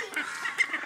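Desi hens and ducks kept in a yard, giving faint, scattered clucks and quacks through a steady background murmur, with no clear single call standing out.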